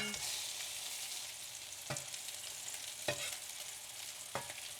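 Salisbury steak patties browning in a hot skillet, a steady close sizzle and crackle running throughout, broken by three sharp clicks or scrapes from a utensil spaced about a second apart.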